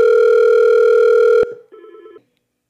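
A desk phone on a UCaaS system giving a steady loud tone for about a second and a half, then cutting off into a short quieter electronic ringback burst before silence.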